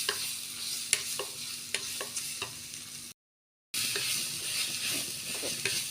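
Crushed cumin, onion and garlic frying in a pan for drumstick rasam, a close steady sizzle punctuated by sharp spoon-against-pan taps and stirring clinks, interrupted by a short silent gap.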